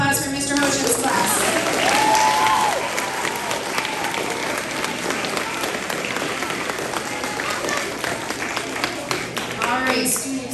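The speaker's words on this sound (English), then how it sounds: "one more round of applause for Mr." A crowd applauds a fifth-grade class at an elementary school awards ceremony, with sustained indoor clapping that fills the room throughout and gradually thins toward the end.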